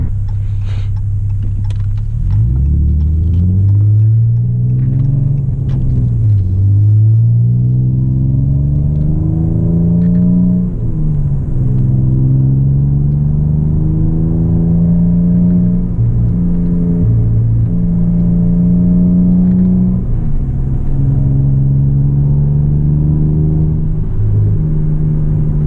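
A car fitted with Eibach lowering springs takes a corner at about 46 mph, its engine a steady, close rumble with pitch rising and dipping as it accelerates and eases off, continuous for the whole stretch with no talk.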